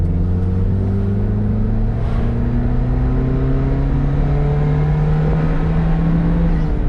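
A 1996 Fiat Panda 4x4 with a 1.1-litre engine accelerating on the road at part throttle, a loud, steady engine drone rising gradually in pitch from inside the car.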